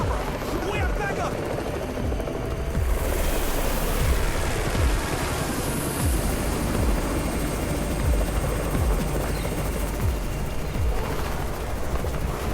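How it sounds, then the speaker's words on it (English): A helicopter in the video game Undawn hovers close by, a steady roaring rotor wash with rhythmic blade thumps throughout, loud and continuous. "It's the Raven's chopper! We have backup!"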